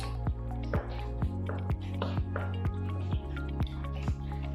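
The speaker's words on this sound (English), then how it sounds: "now we're gonna poke a ton of tiny holes in it for the milk" A fork pokes tiny holes in a baked tres leches cake, giving soft, close, squishy taps that repeat at a steady rhythm about ten times.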